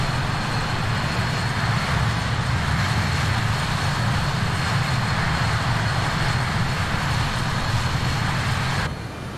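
Steady, loud whine and roar of the engines of a Just Flight BAe 146 jetliner in Microsoft Flight Simulator 2020, droning continuously without a break and dropping off slightly at the very end.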